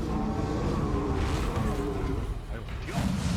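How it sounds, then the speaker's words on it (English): The Confringo spell is cast in a Hogwarts video game: a dense, continuous whooshing and crackling buzz of magic with a swelling sweep near the end, loud and steady over brief speech. "Confringo!"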